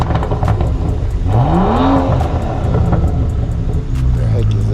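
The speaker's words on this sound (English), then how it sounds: "Oh, it's BMW right here. Sounds kind of good." A BMW engine idles and revs at a car auction, a rumbling motor with a rising whine, heard close amid crowd noise and brief talking.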